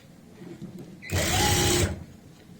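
A sewing machine runs a single continuous burst of stitching along the folded edge of a dhoti salwar's fabric, loud and close, starting abruptly and stopping after under a second of steady whirring.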